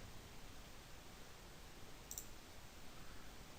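A computer mouse is double-clicked, a quick, very faint pair of clicks that barely rises above a steady hiss of background noise midway through.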